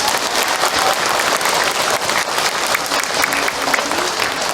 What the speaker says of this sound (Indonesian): Tepuk tangan buat Ahilman dong untuk jawabannya